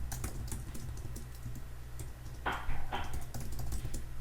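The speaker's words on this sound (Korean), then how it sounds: "패스워드를 영문으로 타자로 친 겁니다." Someone types a password on a computer keyboard while setting up Elastic cluster security, producing a steady run of close, crisp key clicks with a denser, louder burst of keystrokes midway.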